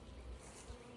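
Steady insect buzzing from bees at a hive, close and continuous, with a low droning hum throughout and no voices.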